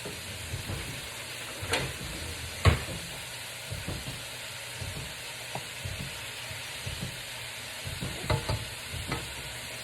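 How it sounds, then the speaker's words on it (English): Sesame chicken sizzles steadily in a hot pan while a utensil scrapes and clinks against it in scattered strokes, close and moderately quiet. "I'm just going to toss it all in there. Get that stir."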